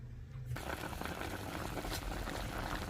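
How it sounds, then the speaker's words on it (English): Jerk pork cooking in a Dutch pot with garlic, onion and scallion, giving a steady bubbling, simmering hiss that starts after a brief quiet moment and continues close and even throughout. "So here the cooking process has started in my Dutch pot"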